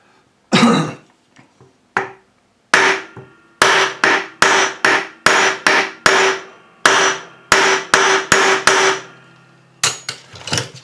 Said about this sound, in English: Maybe the bigger hammer.